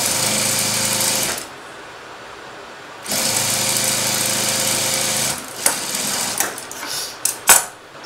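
A sewing machine runs a straight seam along a blouse, about half an inch in, its loud, steady mechanical rattle going in two long runs split by a short pause, then breaking into brief bursts and clicks.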